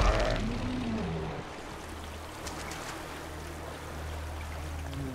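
A stream flows in Far Cry Primal, a steady soft trickling wash of water heard fairly faint and alone, with a brief low tonal swell at the start.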